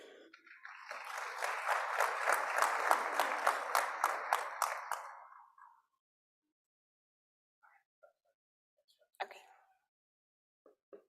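Summit attendees clap for about five seconds, the applause swelling and then fading out, with a few faint knocks and a brief voice afterward in a quiet room.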